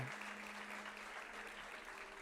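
A church congregation at a worship service applauds, a faint, even wash of clapping heard at a distance, with a low sustained tone running beneath it.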